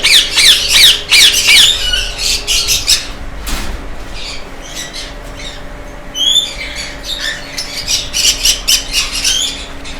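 Caged lovebirds and conures in an indoor breeding setup squawk loudly and repeatedly, with several birds calling in overlapping harsh bursts close by and a steady low hum underneath.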